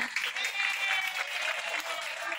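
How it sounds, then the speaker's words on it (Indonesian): Steady applause from a room full of people, continuous and even throughout, moderately loud. "Beri tepuk tangan"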